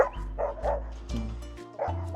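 A German Shepherd and a Doberman bark loudly and close by in a fast run of deep, repeated woofs with short gaps between them.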